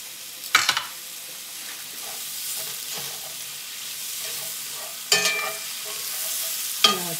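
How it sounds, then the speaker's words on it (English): Butter sizzling in a skillet while chicken Marsala is cooked, a steady soft hiss broken by a few sharp clinks and scrapes of a utensil against the pan, close and alone. "I'm gonna get 2 more tablespoons of butter and add to the skillet."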